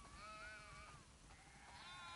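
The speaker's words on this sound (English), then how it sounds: "Wow, that's a lot of sheep." Sheep bleating in The Last of Us Part II, a few drawn-out bleats from a flock near a barn, faint and quiet with no talk over them.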